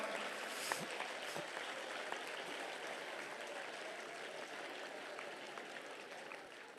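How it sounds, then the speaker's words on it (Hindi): Faint, steady applause of many small children's hands in a village class, a soft continuous patter heard from a distance, with no voices. "अपने लिए ताली बजा के दिखाओ।"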